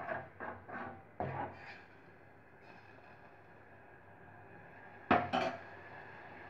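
Chili powder and salt are stirred into tomato curry (saaru) in a pot: a metal spoon clinks and scrapes against the pot in several quick knocks, a quiet pause, then two sharper clanks.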